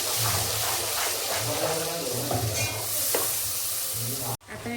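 A paste of onion, coriander, garlic and ginger with spices is sautéed for chicken curry, giving a close, bright, steady sizzle with stirring scrapes throughout that cuts off abruptly just before the end.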